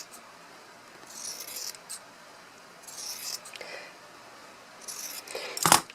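Fabric being cut with scissors while making an embroidered cellphone holder, several soft snipping and crunching strokes close by in short bursts, ending with a sharp louder snip.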